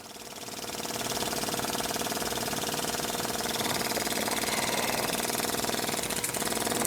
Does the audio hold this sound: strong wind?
no